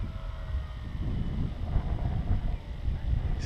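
A Tech-One Neptune EDF RC wing flies with the wind at full throttle, its ducted fan a steady whooshing roar mixed with heavy wind buffeting on the microphone, continuous and fairly loud throughout.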